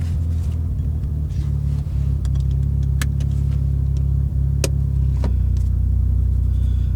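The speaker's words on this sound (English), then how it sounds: "it is test drive time on the JDM right-hand drive RX7" Japanese right-hand-drive Mazda RX7 with a rotary engine on a test drive, a loud, steady low engine drone and rumble from inside the car, with scattered clicks and small rattles over it.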